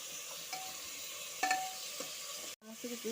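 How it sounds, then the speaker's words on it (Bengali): Mutton and vegetables stirred with ghee in a pan make a quiet, low sizzle with occasional light scrapes and clinks and a brief dropout near the end, with no voices. "ঘিয়ের সাথে মাটন সবজিগুলো সব মেশানো হয়ে গেছে"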